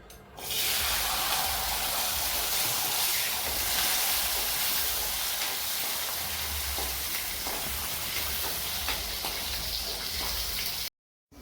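Garlic cloves fry in hot ghee, giving a steady, loud sizzle with crackling pops that runs for about ten seconds before cutting off abruptly.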